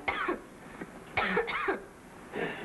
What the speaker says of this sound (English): that's quite a cough you've got there